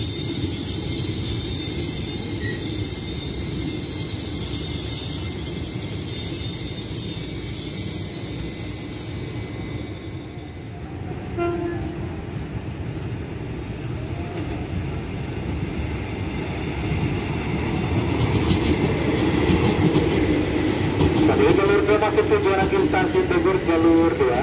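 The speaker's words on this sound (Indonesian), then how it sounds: "Jalur 2 masuk kemudian tujuan Bekasi jalur 2." An electric commuter train rumbles into Cikini station in Jakarta, steady rolling noise with high metallic tones and wheel squeal building toward the end.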